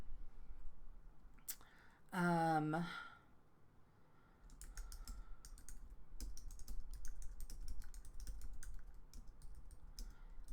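Soft, quick keystrokes on a computer keyboard patter along as someone types copy, the rapid light clicks running steadily under faint room tone after a short burst of other sound.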